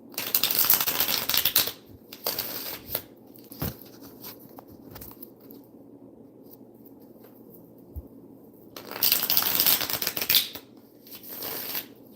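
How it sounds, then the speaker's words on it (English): A tarot card deck is shuffled in riffling bursts, loud at the start and again near the end, with quieter handling and occasional taps in between; no one speaks. "I'm just going to shuffle the deck"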